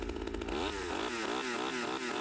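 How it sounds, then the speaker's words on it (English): In the TV series Dexter, a chainsaw engine revs in a loud buzzing whine, pitch rising and falling in repeated surges as it is started and throttled. "Trinity can't start a chainsaw and very much dislikes that Dexter was able to with ease"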